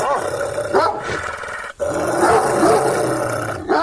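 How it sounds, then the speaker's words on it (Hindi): Tommy, a loyal dog, barks and growls close by in a steady, loud burst with a brief break midway. "टॉमी उन पर भौंकने लगता है।"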